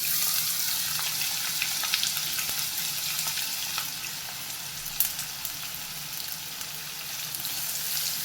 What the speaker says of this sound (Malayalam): നല്ലതുപോലെ ബ്രൗൺ ആകുന്നത് വരെ ഈ സവാള നമുക്ക് വഴറ്റിയെടുക്കണം.